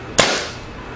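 A single sharp, close crack from a Kingman Chaser CO2 air pistol, brief and alone, with a short decay.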